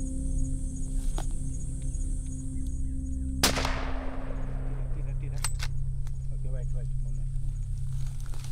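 A rifle fired at a buffalo on a hunting safari, one sharp loud crack midway with a decaying tail over steady outdoor background noise and faint movement sounds afterward.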